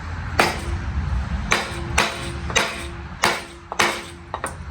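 A flywheel being pried off a 1954 Evinrude 7.5 HP outboard with a 2x4 levered under its lip: a series of sharp knocks and thuds, about six, each trailing a brief metallic ring, close and loud over low background noise.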